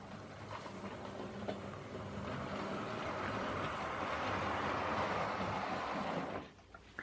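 A Hornby GWR Grange class model locomotive runs on its track with a steady faint rolling hum and light rail clatter, stopping abruptly near the end, no speech.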